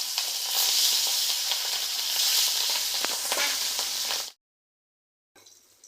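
Pangas fish pieces fry in hot oil with a loud, crackling sizzle and scattered pops, close up, cutting out abruptly to silence near the end before the sizzle briefly returns; no voices.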